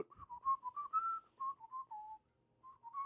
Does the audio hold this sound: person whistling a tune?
yes